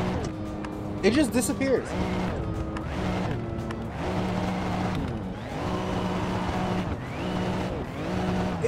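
A tank engine swapped into a Chevy C-10 pickup revs and drones in the Assetto Corsa racing game, its loud sustained roar rising and falling through gear changes with brief tire squeal, while someone talks over it throughout.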